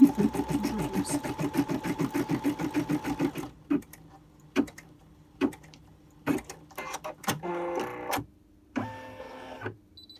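A Brother embroidery machine stitching lettering with double-clip frames, first a fast steady mechanical whir, then short separate bursts and pauses as it moves between letters, close and clear with no voices.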